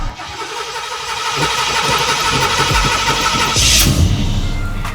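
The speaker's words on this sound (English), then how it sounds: "Car's a runner, runs and drives great, starts right up. We give it a couple of whacks on the gas pedal." A 1987-era car engine cranks, catches and revs up with a couple of throttle blips, then settles into a loud, steady idle close by.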